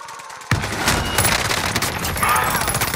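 Rapid automatic gunfire in Call of Duty: Modern Warfare erupts suddenly after a brief quiet moment, then continues as dense, loud bursts, with a player's voice briefly heard over the shooting.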